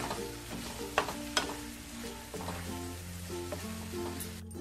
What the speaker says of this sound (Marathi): छान हलवूया ह्याच्यामध्ये, छान मसाल्यामध्ये या सगळ्या.